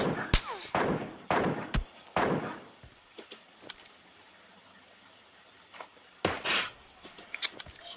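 Several sharp gunshot-like bangs crack out in a cluster at first, then scattered smaller knocks follow before a final burst of loud reports near the end, with no talk.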